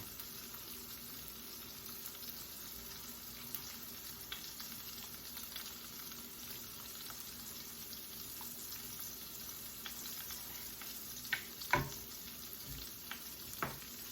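Cajun cream sauce made with half and half simmers quietly in a pan, a soft continuous bubbling hiss broken by a few sharp clinks near the end, with no voices.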